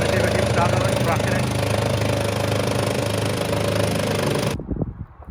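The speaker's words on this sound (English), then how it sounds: "We're just disking this field now, Andrew's on it." A tractor pulling a disc harrow across a field churns out a loud, continuous engine drone that cuts off abruptly near the end.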